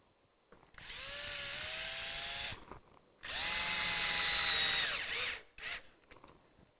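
A power drill driving fixings to secure a plastic ridge end cap on a roof: two loud sustained whirring bursts of about two seconds each with a brief pause between, then a short final burst, alone and close.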